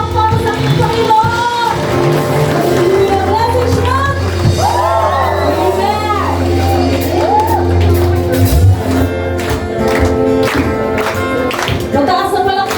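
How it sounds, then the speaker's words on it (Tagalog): A congregation at a Filipino worship service cheers and applauds in praise of the Lord, a loud, continuous wash of shouts, whoops and clapping with voices and ringing tones layered throughout. "Muli isang mataas ang palakpak para sa ating Panginoon"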